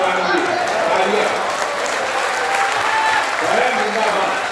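Sustained applause from a crowd, steady clapping throughout with a few voices mixed in.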